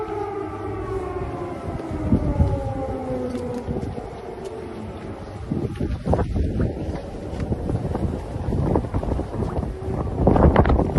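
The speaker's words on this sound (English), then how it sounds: "resident Biden walking in to a war zone with the sirens blaring in the air with President Zelensky." An air raid siren in Ukraine wails with long rising and falling tones under heavy wind buffeting and rumble, loud and continuous.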